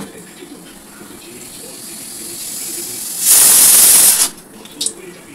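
Sugar dropped into hot oil in a kadai for mutton curry sets off a sudden, loud, hissing sizzle lasting about a second, rising sharply out of a quiet kitchen background and then dying away.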